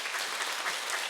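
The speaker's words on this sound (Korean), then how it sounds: "박수 한번 전해주십시오." A Korean talk-concert audience at a life committee event claps in a dense, continuous wash of applause, steady and moderately loud for a brief moment.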